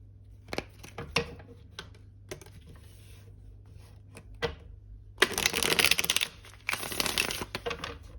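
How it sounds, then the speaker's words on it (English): Cards shuffled close up: scattered taps and flicks, then two loud riffling bursts of fluttering cards near the end. "Okay, we'll do one last shuffle."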